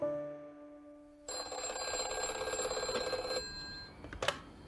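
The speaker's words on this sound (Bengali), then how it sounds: "এই সময় একদিন মেহরার কাছ থেকে একটা ফোন এলো।" A telephone rings in a Bengali radio drama of Satyajit Ray's story Shilpi: after a soft sustained tonal background, a loud continuous electric bell trills for about two seconds, then stops, followed by a short click.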